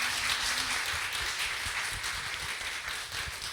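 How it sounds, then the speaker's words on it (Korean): An audience at an artist talk in Korea claps steadily in a continuous, moderately loud round of applause that lasts throughout, with no speech over it. "금까지 토크에 진행해주신 이제 송주현 큐레이터, 김민재 작가님, 최연서 작가님께 큰 박수 드리도록 하겠습니다."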